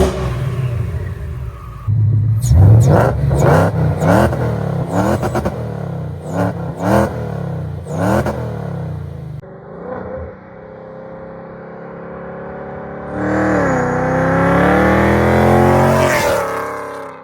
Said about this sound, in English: So we're gonna give this thing a start and rip it around to see if the whine increased like a Hellcat.